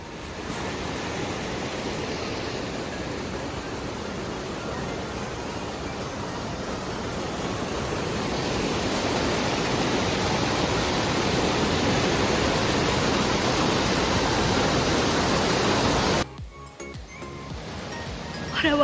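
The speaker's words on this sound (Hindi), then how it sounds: "अब देखिए कि एक्चुअली वाटरफॉल की साउंड किस तरह सुन" A waterfall on a mountain trek in Bir Billing roars as a steady, dense rush of falling water, loud and close, continuing unbroken until a short disturbance near the end.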